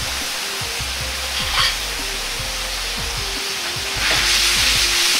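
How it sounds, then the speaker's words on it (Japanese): Soy sauce poured into a hot wok over melted pork back fat while stir-frying meat and vegetables in a Chinese restaurant style, giving a steady loud sizzle with brief surges of hiss as it hits the pan, no voices. "醤油入れるときは加熱をして鍋肌から焼くようにして入れる。"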